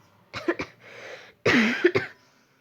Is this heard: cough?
yes